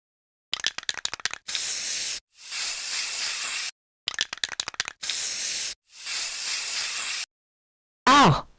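Pepper spray fired in several bursts of steady hissing, each lasting about a second, separated by short gaps and rapid clicking, close and loud; a brief wavering cry follows at the end.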